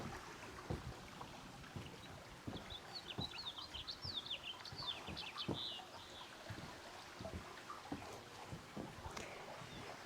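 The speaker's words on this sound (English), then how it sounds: "We've got some birds singing for you." Birds chirp and warble in bursts over a steady rush of flowing water in Auburn, California, with faint intermittent thuds in the background.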